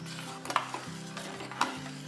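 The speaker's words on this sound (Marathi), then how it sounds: "उकळत आल्यानंतर एक दोन ते तीन मिनटं फक्त हे हलवून घ्यायचं आहे" Milk heating toward a boil in a pot is stirred, with a few light scraping and clinking touches over a soft low bubbling background, close and fairly quiet.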